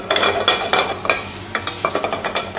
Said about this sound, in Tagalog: Saute lang natin siya.